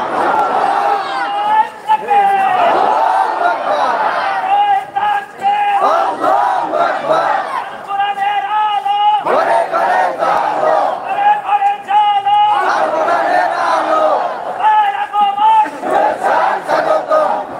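A large crowd at a religious rally chants a slogan in loud, rhythmic call-and-response waves, with surges of massed voices breaking off and resuming several times.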